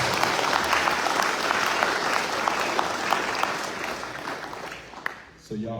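An audience at a Navy retirement ceremony claps steadily for several seconds, a dense wash of many hands that fades out before a voice starts speaking at the end.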